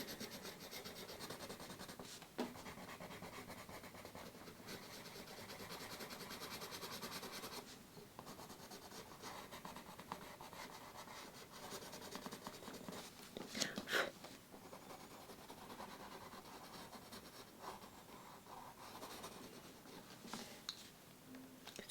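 Chartreuse Green colored pencil scribbled across paper to build a large swatch, a steady close scratchy rubbing that continues for a long stretch with quick back-and-forth strokes, quiet and with no talking.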